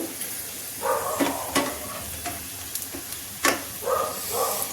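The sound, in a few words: urad dal kachoris cooking in a pan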